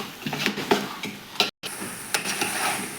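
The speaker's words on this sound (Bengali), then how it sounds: "দেখেন আমি মাংসটা সুন্দর করে কষাই নিতেছি মাজন টমেটো দিয়ে।" Meat stir-fries with tomato in a hot pan, a continuous sizzle punctuated by repeated scraping and tapping of a spatula against the metal, close-up with a brief dropout midway and no speech.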